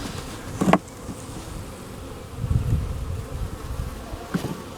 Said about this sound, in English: All those bees on here.